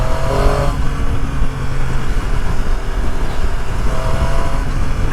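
A Triumph Street Triple 765 RS motorcycle engine drones loud and close while riding, a steady throaty roar with slight pitch shifts and wind rush throughout.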